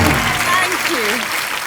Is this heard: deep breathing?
no